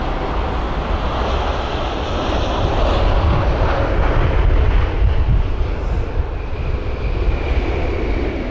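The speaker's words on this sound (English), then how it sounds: "If you paid attention to the reverse thrust on board that 7879 Dreamliner" A Boeing 787-9 Dreamliner lands at windy London Heathrow, its engines roaring loudly in reverse thrust as a broad, steady rumble that swells slightly mid-way and holds throughout.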